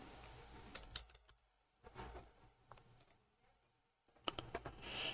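Scattered clicks of typing on a laptop keyboard at a Windows PC search bar, several short bursts of keystrokes separated by pauses, close and fairly quiet with no talking.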